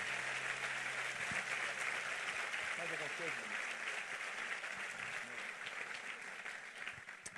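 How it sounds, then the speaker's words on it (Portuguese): A church congregation applauds, a dense, steady wash of clapping that carries on for several seconds and fades slightly toward the end, with a voice heard briefly over it. "diga eu recebo e aplauda ele no nome de Jesus"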